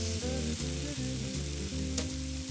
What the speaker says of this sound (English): While the bacon fries, I'm going to round up my garnish.